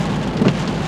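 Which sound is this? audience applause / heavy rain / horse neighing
heavy rain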